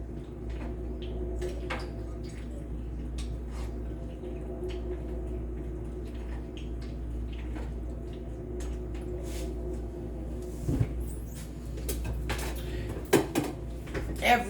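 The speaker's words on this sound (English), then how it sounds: "I'm stirring it." A spoon stirs Hamburger Helper in a pan, giving soft scrapes and light clinks over a steady low stovetop hum, with a few sharper knocks near the end.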